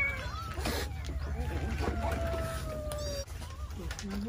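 Dozens of kittens at a garden house mew in thin, rising cries that overlap through the scene, with a steady low background hum and some voices nearby.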